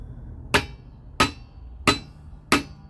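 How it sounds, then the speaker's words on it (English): Four evenly spaced, sharp metallic hammer strikes ring out close by as a rear shock is driven into place on a Ford Excursion, each hit decaying quickly over a low background hum. "First thing we're gonna try to hammer it through."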